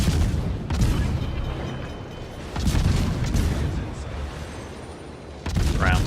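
Naval guns firing rounds in a video game: heavy booming shots in a few separate blasts over a continuous low rumble, loud and fairly close.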